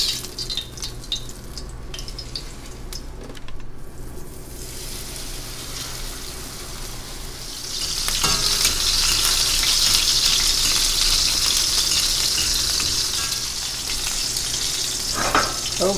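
A tilapia fillet frying in hot oil in a pan gives a steady close sizzle that swells into a louder, brighter spatter midway and stays strong to the end, with no voices.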